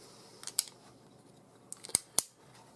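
A carabiner clips into a Prusik loop tied with a Bull Hitch, giving a few sharp, close metallic snaps and clicks spaced over a couple of seconds against near silence.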